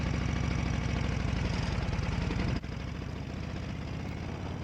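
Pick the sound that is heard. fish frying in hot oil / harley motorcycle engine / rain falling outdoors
harley motorcycle engine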